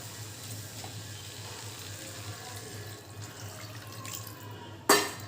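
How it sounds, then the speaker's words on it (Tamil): Water pours steadily into a pot, a soft continuous splashing trickle close by, ending with a sharp clatter. "இப்போ தேவையான காய் வேகிறதுக்கு தேவையான தண்ணி சேர்த்துக்கலாம்"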